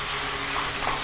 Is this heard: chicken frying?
yes